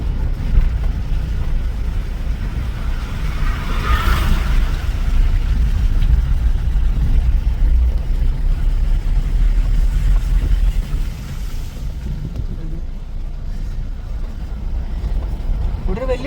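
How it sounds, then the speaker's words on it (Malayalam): A tractor creeps slowly along a forest road near Konni in Kerala, its engine giving a steady, loud low rumble that runs continuously throughout with no other sounds standing out. "ട്രാക്ടർ പതുക്കെ കടന്നു വരുന്നുണ്ട്"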